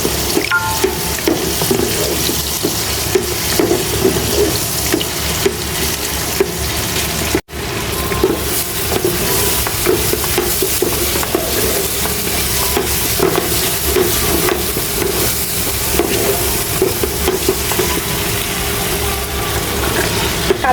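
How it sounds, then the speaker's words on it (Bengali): Onion and bay leaf fry in a pan of oil as a base for fish curry, a steady loud sizzle with scraping stirring noises throughout and one brief break partway through. "মাছ ভোনার জন্য প্রথমে যে পেঁয়াজ আর হচ্ছে তেজপাতা একটু হালকা ভাজা নিব"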